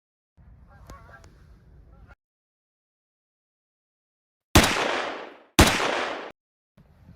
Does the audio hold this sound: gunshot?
yes